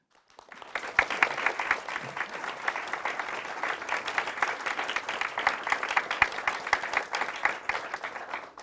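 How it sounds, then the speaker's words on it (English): A seated audience at an institute event in Seoul breaks into warm, dense applause for an ambassador, swelling quickly after a near-silent start and holding steady as a thick wash of clapping hands to the end. "please give a warm round of applause to Ambassador Yoon Sun-gu"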